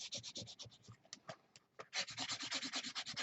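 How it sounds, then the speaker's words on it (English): A sticker is firmly burnished onto a children's book journal page by rubbing, producing a steady series of close, scratchy back-and-forth strokes with a brief pause midway before faster, louder rubbing resumes. "burnish this down here good, so that that is going to stick nicely"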